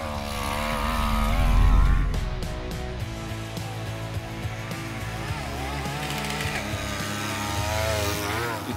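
A small two-stroke engine fitted to a mountain bike runs with a loud, buzzing drone that revs up near the start, then settles into a steady rasping note with slight pitch wobbles.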